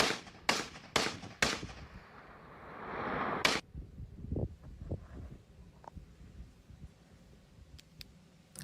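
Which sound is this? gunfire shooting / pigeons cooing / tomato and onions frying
gunfire shooting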